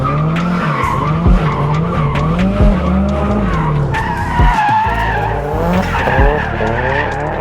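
A race car drifts around Sportsland track with continuous loud tire squeal and a revving engine rising and falling, close and sustained throughout.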